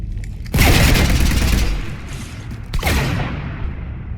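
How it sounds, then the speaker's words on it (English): Heavy gunfire and explosive booms rake a ship in Mass Effect 3, a loud sustained barrage starting after a brief lull, easing slightly, then surging again with a second burst before tapering off. "You want to stop shooting up my ship?"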